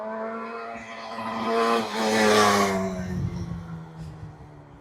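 A 52-year-old restored motorcycle runs on a test ride, its engine note climbing and swelling as it passes close, then easing off and fading, with no talk.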